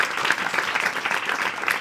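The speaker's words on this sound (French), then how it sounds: "tu peux applaudir," Dense audience applause at a comedy show, a steady close wash of many hands clapping without a break.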